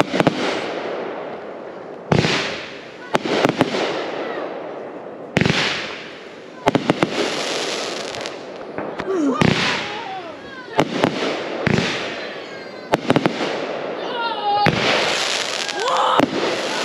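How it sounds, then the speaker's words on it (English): Fourth of July fireworks burst again and again in loud, sharp booms and crackles, some with whistling rises, across a steady hiss and rumble, while people talk faintly in the background. "But here we go for more epic content and fireworks."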